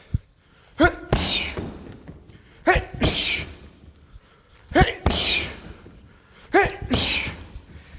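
Round kicks land on a freestanding sand-filled FightCamp heavy bag, four hard thuds at steady intervals, each followed by a sharp, hissing exhale from the kicker, close and loud.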